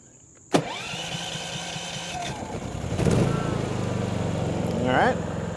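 A Predator 5000 generator running on propane from a BBQ tank cranks with a sharp onset and catches, then settles into a steady engine rumble that briefly rises as it comes up to speed. People talk over it.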